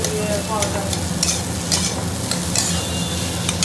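Chow mein with egg being stir-fried: a loud, close, continuous sizzle with repeated scraping strokes of a spatula against the pan running throughout.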